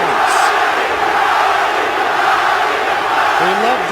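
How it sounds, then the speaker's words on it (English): A packed UFC 180 arena crowd roars in a sustained, loud wash of booing and jeering during the Cain Velasquez vs Fabricio Werdum heavyweight fight, with no clear speech over it. "the people that were cheering him are booing him now"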